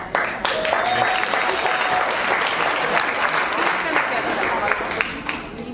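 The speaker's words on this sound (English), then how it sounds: "I want to applaud the committee for that, for their work on getting that done" An audience at an annual celebration, installation and graduation ceremony applauds the committee with sustained, dense clapping from many hands, close and loud, holding steady for several seconds.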